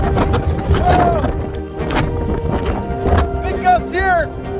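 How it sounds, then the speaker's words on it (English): Strong hurricane wind gusts roar and buffet the microphone in Sydney, Nova Scotia, during Hurricane Fiona, a steady loud rush with surging peaks, while someone talks over it. "Big gusts here in Sydney"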